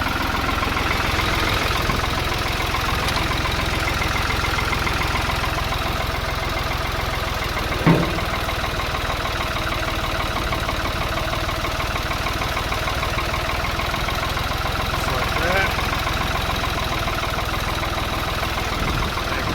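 A steady low engine idle rumbles on throughout, even and unbroken, with a couple of faint clicks or knocks on top.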